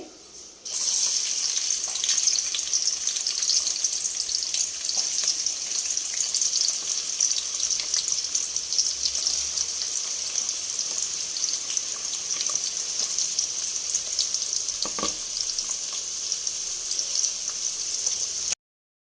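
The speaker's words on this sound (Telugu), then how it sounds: "నూనె కాగాక ఉల్లిపాయలు వేసుకుందామండి" Onions frying in hot oil for a chicken fry biryani, giving a steady, close hiss and sizzle that runs continuously with no talk.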